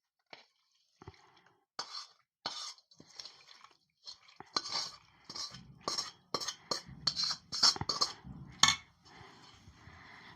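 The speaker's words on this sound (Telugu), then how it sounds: "ఇవన్నీ పోసి ఇది మంచిగా కలుపుకుందాం" Bitter gourd pickle being mixed by hand in a bowl makes irregular wet squelches and soft clinks, close and fairly quiet, with short pauses between them.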